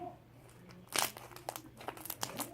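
Crunchy slime squished and stretched by hand, giving close, irregular crinkling crackles and squelchy bursts that grow denser after the first second, with no talking.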